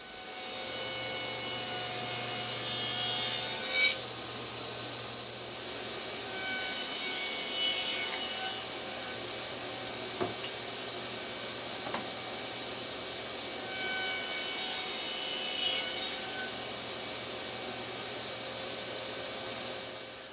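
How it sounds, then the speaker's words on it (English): Rabbets are cut into 3/4-inch plywood for the top and bottom of a kitchen wall cabinet. A loud, continuous rasping whine of blade on wood runs throughout, rising and easing slightly in intensity. "these rabbets that I'm cutting here for the top and bottom of the cabinet, they're also 3/4 inch plywood"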